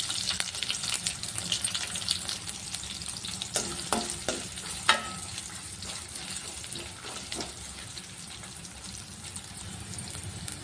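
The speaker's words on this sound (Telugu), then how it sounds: "మనం కట్ చేసి పెట్టుకున్న ఆనియన్ని కూడా వేసి వేయించుకోవాలి" Chopped onions frying in a pan, a steady close sizzle throughout with a few sharper stirring clicks and scrapes around the middle.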